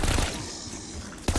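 Rapid automatic gunfire bursts in the Call of Duty Vanguard Zombies video game, loud and close, stopping briefly before another burst.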